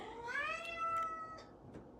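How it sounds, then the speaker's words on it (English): A house cat gives one drawn-out, rising meow close to the microphone, trailing off into a few softer faint sounds. "That's my cat."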